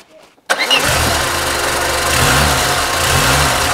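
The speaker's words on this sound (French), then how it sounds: "Tu tiens le démarreur un peu trop longtemps, Louise, quand tu démarres" A Peugeot 2-series car engine catches on the starter after a short quiet moment, then settles into a loud, steady mid-pitched idle with a faint rhythmic pulse, recorded up close.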